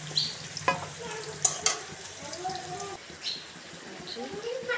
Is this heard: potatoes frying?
yes